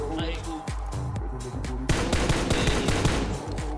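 Automatic weapon fire in PUBG on the Erangel map, with rapid bursts of gunshots and dense repeated cracks, loud and close, running under someone talking.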